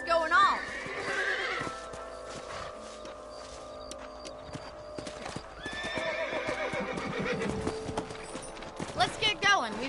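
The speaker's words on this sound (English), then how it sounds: "Let's get back on the horses and see what else is going on." Horses in the western video game Red Dead Redemption, steady clip-clop of hooves with repeated loud whinnies and neighs, heard close over a game soundscape with people talking.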